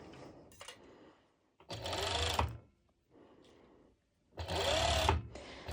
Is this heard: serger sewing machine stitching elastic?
yes